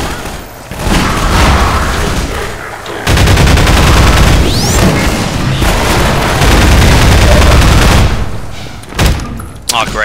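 Rapid gunfire bursts from the first-person shooter Half-Life 2, loud and dense with booming impacts and explosions filling most of the stretch, while a man reacts in short spoken outbursts.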